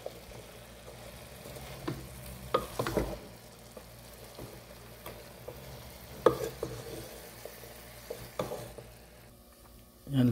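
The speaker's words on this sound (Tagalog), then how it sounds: "I-half-cook lang natin yung gulay." Vegetables stir-fry in a pan for Filipino-style Thai noodles: a low, steady sizzle broken by scraping spatula strokes and occasional clacks, close and moderately quiet, with no talking.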